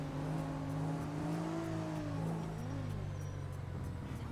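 In GTA 5, a Porsche's engine hums and revs in a steady drone that swells and dips in pitch, sustained and fairly close, with a faint whir of other traffic behind it.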